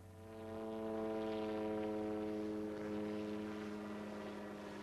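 A helicopter flies overhead with a steady droning rotor and engine hum that swells slightly and holds, fairly distant and moderately quiet, with no voices.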